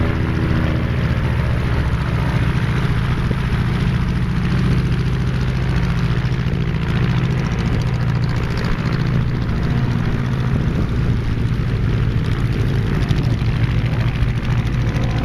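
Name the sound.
home-built aircraft flying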